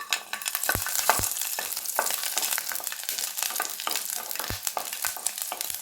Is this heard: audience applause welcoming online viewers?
no